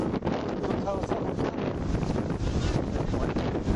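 Wind buffets an open microphone at an outdoor ultimate frisbee open final, a steady loud broadband rush that lasts the whole moment with faint voices mixed in.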